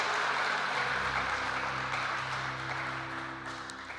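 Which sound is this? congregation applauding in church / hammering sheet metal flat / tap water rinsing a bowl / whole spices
congregation applauding in church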